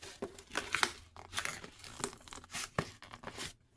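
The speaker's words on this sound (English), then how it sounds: "I might have to rip the box." A cardboard box is ripped open by hand, giving several close, crisp tearing and crinkling bursts in an irregular rhythm, with brief pauses between pulls.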